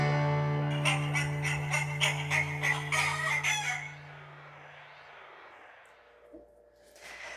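A rooster crows loudly and close, a long harmonic call over the first four seconds, followed by quieter hen clucks and a fading tail, with no talk.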